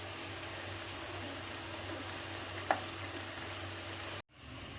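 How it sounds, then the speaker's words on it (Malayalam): Even, hissing sizzle of bitter gourd and chillies frying in hot oil, with one sharp clink partway through, then the sound cuts off abruptly near the end. "നന്നായി വറുത്തെടുക്കണം"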